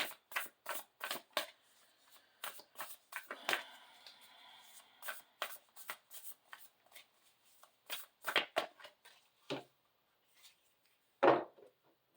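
A Starcodes Astro Oracle card deck is shuffled by hand in quiet, close bursts of crisp riffling and flicking, pausing between runs, with one louder slap of cards near the end.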